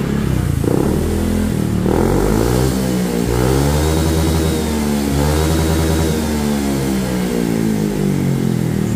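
A Honda Vario 160 scooter fitted with an SKR Racing aftermarket exhaust revs repeatedly up close. Loud engine surges rise and fall in pitch over a rattly idle, with no talk.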